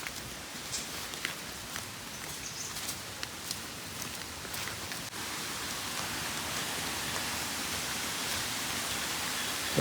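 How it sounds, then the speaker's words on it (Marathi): Rain falls steadily around a green rural house, a soft diffuse patter with scattered sharper drop taps, growing slightly denser and louder in the second half. "पाऊस पण येतोय."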